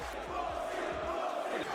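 A wrestling arena crowd chants insults at Randy Orton, a loud, roaring mass of voices with rhythmic low thumps pulsing underneath.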